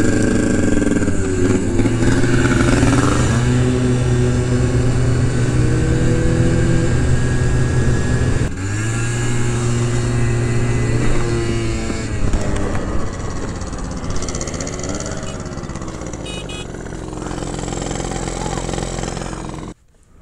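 Honda Dio Elite scooters ride together, their small engines droning loudly and steadily with shifting revs, while voices talk over the engine noise throughout.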